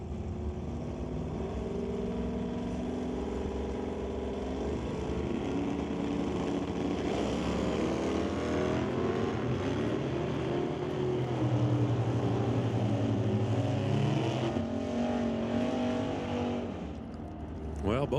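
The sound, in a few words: drag race cars, Firebird and Camaro, launching off the line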